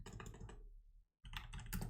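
Fingers type quickly on a computer keyboard in a quiet room: two dense bursts of close, crisp key clatter separated by a short silent pause.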